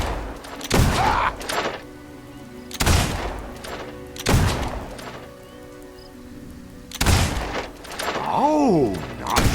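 Loud broadband gunshot bursts from Fable II ring out roughly every two seconds, four blasts in all, each followed by a short decay, with game chatter and melodic effects in between.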